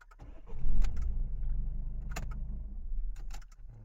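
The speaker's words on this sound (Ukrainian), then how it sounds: "зараз перевіряємо, заведеться чи не заведеться. Зараз завелась." A car engine cranks and catches, then settles into a low idle, with a few sharp clicks and rattles over the running motor at close range.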